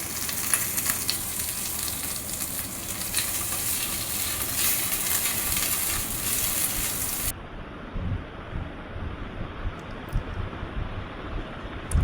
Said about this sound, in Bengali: তারপর ক্যারি পাতা দিয়ে ভেজে নিন যতক্ষণ না সুন্দর সুগন্ধ বের হয়।